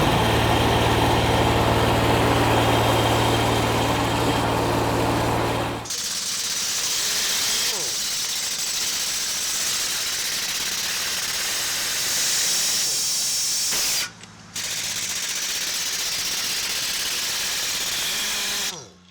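A VMAC 60 CFM diesel-driven air compressor runs with a steady engine drone and loud air hiss, shifting abruptly to a harsher roar partway through, with a brief dropout near the end.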